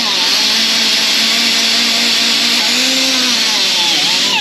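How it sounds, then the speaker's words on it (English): An abrasive disc on a grinder cleans up the steel roll cage bars inside an E46 sedan, giving a loud, continuous high-pitched grinding whine with slight pitch shifts as the disc loads against the metal. "you can go with an abrasive disc around the outside, and just keep cleaning up all the other bars"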